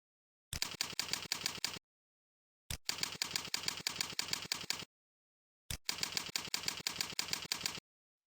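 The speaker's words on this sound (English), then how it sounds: "Then type the username and password." Quick, even keyboard typing in three separate bursts of keystrokes with short silent pauses between them, close and fairly quiet, no voices.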